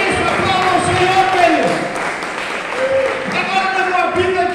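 A church congregation at a Sunday service claps and cheers together, a steady wash of applause at even loudness while a preacher's voice carries over it throughout.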